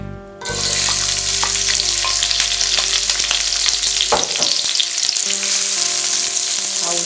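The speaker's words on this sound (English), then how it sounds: "I'm frying with a high heat" Loud, steady sizzling of onions hitting hot oil on high heat for pineapple fried rice, crackling continuously with occasional stirring scrapes, close up.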